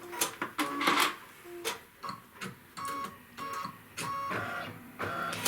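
A Kimberbell embroidery hoop machine stitches an appliqué placement line, making close, rhythmic clicking and whirring bursts that start and stop with brief pauses between runs.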